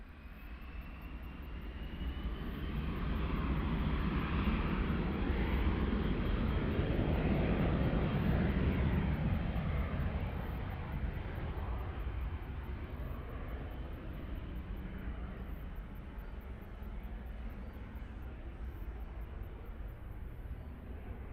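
A Pacific Jets charter jet at Auckland Airport roars past, its broad engine rumble swelling to a peak around the middle and then holding as a steady, slowly fading roar, heard alone without voices.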